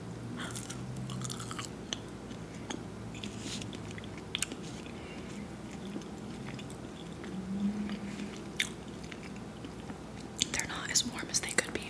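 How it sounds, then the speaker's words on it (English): Thick french fries being bitten and chewed up close, soft mouth sounds and small crunches scattered through, with quiet whispering between bites. "Let's have a fry."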